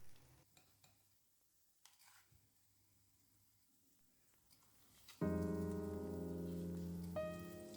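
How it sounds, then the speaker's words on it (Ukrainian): Quiet clatter and light tapping, then a sudden loud, steady sizzle of cottage cheese pancake batter frying in hot oil in a pan that continues to the end. "Смажимо на розігрітій сковороді з додаванням олії."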